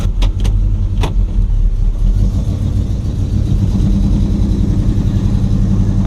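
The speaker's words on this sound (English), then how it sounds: "Oh, that dual exhaust sounds great." A 1973 Oldsmobile Hurst with dual exhaust pulls away, its engine giving a loud, steady, deep rumble close by, with a few sharp knocks early on and no talking.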